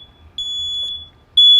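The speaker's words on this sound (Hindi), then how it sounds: "In case detector fire detector, smoke detector कह लें।" A smoke detector being tested with a spray in a fire safety demonstration gives loud, piercing, high-pitched beeps: a short chirp followed by two long sustained tones, with no talking.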